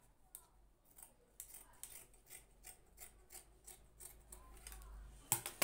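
Scissors snip through excess fabric while a pair of joggers is being cut and sewn, giving a quiet, close series of repeated crisp cuts with no talking.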